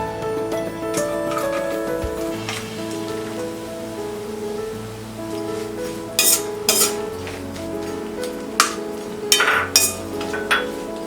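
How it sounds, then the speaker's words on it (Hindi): Dry coconut slices fry in oil in a pan as a spoon stirs and scrapes, with sharp metallic clinks and taps that grow more frequent toward the end over a steady low sizzle. "अब हम फ्राई करेंगे ये ड्राई कोकोनट स्लाइसेस।"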